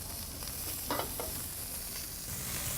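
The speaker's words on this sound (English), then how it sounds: "So we got us a nice sear going on that." Food searing in a hot pan gives a soft, steady sizzle with a few brief stirring scrapes, close but fairly quiet, no voices.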